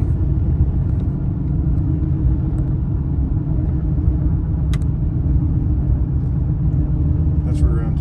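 A Chevy truck's rear end drones under a steady, loud low road rumble from inside the cab while driving, with people talking over it throughout.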